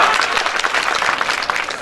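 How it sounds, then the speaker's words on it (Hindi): Audience applause at a school annual day function, a full, steady crowd of clapping hands, moderately loud and continuous, with no voices over it. "ऐसी तालियां बजाइएगा कि 4 दिन तक पूरे समृद्धि बिहार में उसकी गूंजती रहे"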